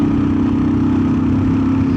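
The engine of a Royal Enfield Himalayan motorcycle, 411 or 450, drones steadily under load at road speed, a loud continuous hum with wind noise for two seconds and no talking.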